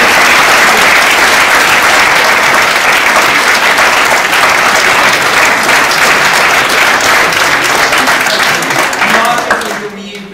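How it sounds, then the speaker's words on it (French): An audience in Chambéry claps loudly and continuously, dense applause filling the room before tapering off abruptly at the end, with a few voices mixed in. "je vous demande de les applaudir"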